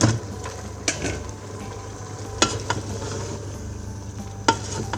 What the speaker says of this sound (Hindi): अब इसमें गोभी डालते हैं।